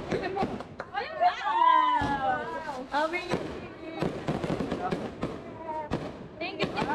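Fireworks crackle and pop repeatedly in the distance while people talk and exclaim nearby.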